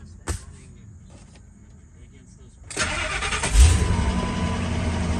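Cold start of a Ford F250 Superduty pickup truck: after a quiet stretch with a brief click, the engine cranks and catches, surging to a loud, low rumble that settles into a steady idle. Someone speaks over the sound.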